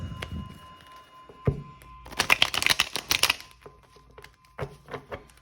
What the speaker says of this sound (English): I'm gonna shuffle it 2 more times.